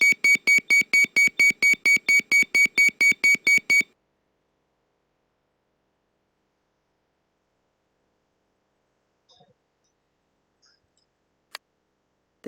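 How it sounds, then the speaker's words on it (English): An Airbus A320 cockpit evacuation horn sounds as a rapid, loud series of regular electronic beeps for about four seconds, then stops, leaving near silence with a few faint clicks. "In the cockpit, the evac light on the command switch flashes red and the evacuation horn"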